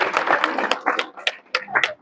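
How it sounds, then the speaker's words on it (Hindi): Audience at a women's gathering clapping in short scattered bursts, a few hands striking unevenly and fairly close, brief and light rather than sustained applause. "तालियां बजाओ।"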